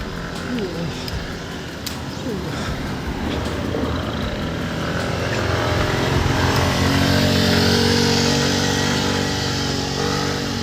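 Vehicle engine on a winding mountain road, a steady roar that swells and grows louder as it nears and passes, over constant wind noise.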